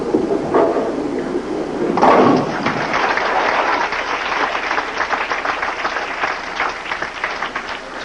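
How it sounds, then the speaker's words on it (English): A crowd at a 1985 professional bowling tournament breaks into sustained applause after a brief thud, the clapping steady and fairly loud, with a voice faintly under it early on. "applauding her hubby."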